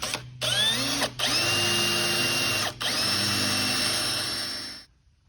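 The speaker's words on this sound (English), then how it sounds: "All right, so we got our holes drilled" A power drill bores holes through a fiberglass hotrod mold in steady, loud high-pitched whining bursts, briefly stopping twice before winding down to silence.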